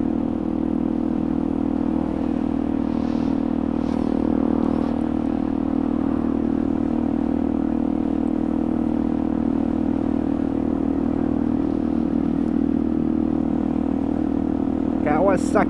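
A Kawasaki motorcycle rides along at steady speed on a chilly evening road, its engine droning continuously while something loose at the back rattles and clatters faintly beneath the wind and engine noise.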